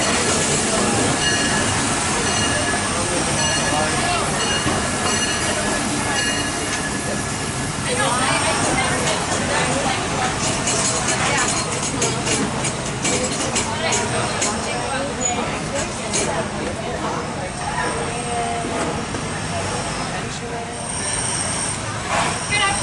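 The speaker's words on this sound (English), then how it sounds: "Remain seated until the train comes to a complete stop." The Disneyland Railroad train rumbles and clatters steadily pulling into a station, with metallic wheel squeals as it slows, while a voice speaks over the rail noise.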